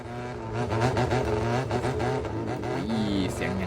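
A Roblox video game car engine roars continuously and loudly, its tone climbing and dipping as it revs.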